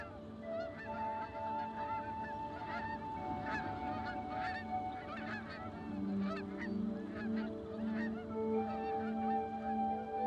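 A large flock of geese and other waterfowl gathered before the southern migration, honking continuously in overlapping calls of many birds, some near and loud, others farther off, with no speech.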